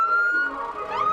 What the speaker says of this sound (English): can we flip on the siren right here?